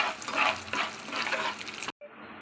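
A tadka of curry leaves and Kashmiri chilli powder crackles steadily in hot oil and then cuts off abruptly, leaving a quieter hiss, with no talking.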